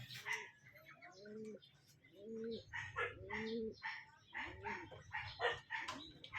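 Stock pigeons in a loft coo in repeated soft, throaty phrases close by, with faint chirps and a low voice murmuring in the background.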